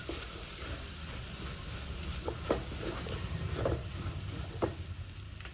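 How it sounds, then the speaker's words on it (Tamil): Prawn masala cooked without oil is stirred in a pan as turmeric, coriander powder and fish masala are mixed in, with a steady low sizzle broken by several short scraping strokes of the spoon. "மஞ்சத்தூள் ஆட் பண்ணுறேன், மல்லித்தூள், ஃபிஷ் மசாலா. ஸோ நல்லா மிக்ஸ் பண்ணி கொடுத்துடலாம்"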